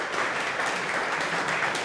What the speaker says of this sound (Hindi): आप सर के लिए तालियां बजाएं।